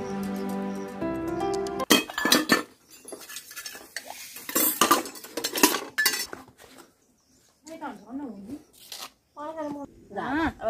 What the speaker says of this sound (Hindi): मैं धो लेती हूँ बर्तन